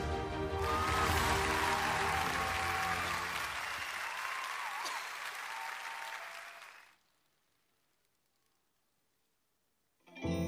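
Audience at an awards-night concert stage applauding to welcome a singer, a dense, loud burst of clapping that swells, holds for several seconds, then cuts off to near silence before a sound returns at the very end.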